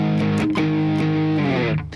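Distorted electric guitar plays an added lead part, a few loud picked notes over a thick sustained chord, close and without talk.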